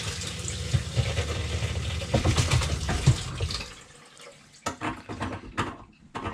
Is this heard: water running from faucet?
yes